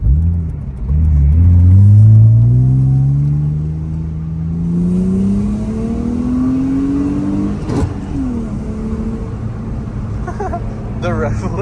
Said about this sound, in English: Shall we go for a test drive?